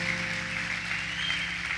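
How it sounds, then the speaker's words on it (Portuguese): Church congregation applauding during an evening consecration service, a steady wash of clapping with a sustained organ or keyboard tone underneath. "Uma salva de palmas"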